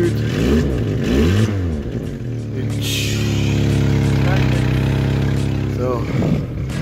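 A straight-piped Skoda Favorit with a broken resonator revs in short bursts, its rough, blatting exhaust rising and falling close by, then settling into a sustained loud drone before another quick blip at the end.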